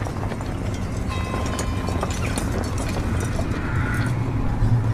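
Horse hooves clip-clop steadily at a trotting pace on a hard surface, continuous and fairly close, with a low rumbling ambience beneath and no talking.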